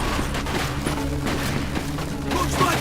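Rapid automatic gunfire from a machine gun in the Mafia II video game, a fast stuttering burst of shots continuing through the moment with music and game sounds beneath.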